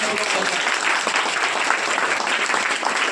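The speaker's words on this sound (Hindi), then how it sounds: "जोरदार ताली चाहता हूँ" An audience at an Ambedkar Jayanti gathering gives a burst of sustained, dense clapping, loud and even throughout with no pause.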